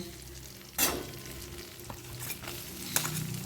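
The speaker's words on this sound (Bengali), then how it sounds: "প্রথমে রসুনটা তেলের সাথে একটুখানি মিশিয়ে নিচ্ছি" Chopped garlic stirred and frying in hot oil in a pan for a Bengali chorchori, a steady low sizzle with a few scraping stirs, the loudest near the start, heard close with no talking.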